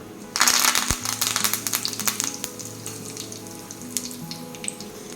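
Curry leaves and cumin hit hot oil in a small tempering pan for raw tomato chutney, setting off a sudden close crackling sizzle that gradually settles into a steady hiss with scattered pops.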